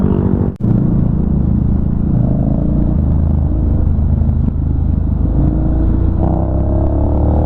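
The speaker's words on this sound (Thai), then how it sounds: "ทั้งเสียงเครื่อง คาแรคเตอร์มัน เปลี่ยนไปเลย เป็นคนละคันเลย พอเป็นโหมดสปอร์ต" A Honda X-ADV 750 scooter running in sport mode gives a steady, loud, close engine drone with rumbling lows and a brief thump near the start, with no speech.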